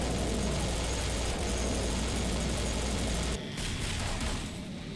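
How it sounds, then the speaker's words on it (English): Dense gunfire and explosions from the video game Serious Sam 4 form a loud, unbroken roar that dips briefly near the end. "Still quite a few explosions, though."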